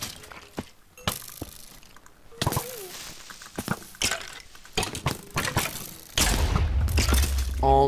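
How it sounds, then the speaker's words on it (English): Sharp bursts and booms in Minecraft go off irregularly, several blasts and clattering impacts, building into a loud sustained rumble of explosions toward the end. "Explosions."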